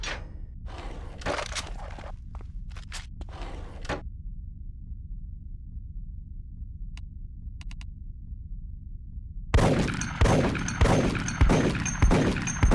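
Sniper rifle shots in the video game Die Hard: Vendetta, during police training, with a sequence of heavy, evenly spaced loud shots near the end, following clanks and a long, quiet low hum.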